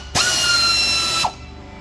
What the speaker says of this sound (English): now using a 10mm socket, we'll remove these two bolts from here